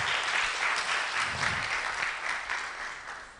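Steady audience applause at a Software Freedom Day event, a dense even wash of clapping that holds loud for about three seconds before easing slightly, with no voices over it.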